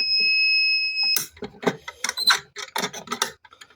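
A fire alarm under test gives a steady, piercing electronic tone for about a second, then cuts off, followed by close clicks and handling noises.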